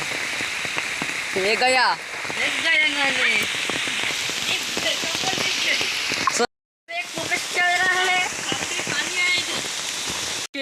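Heavy rain pouring outdoors, a loud continuous hiss of drops hitting surfaces that briefly cuts out, with people shouting and talking over it.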